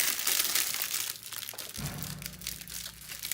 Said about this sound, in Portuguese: Enquanto ele seca, eu vou cortar a outra parte aqui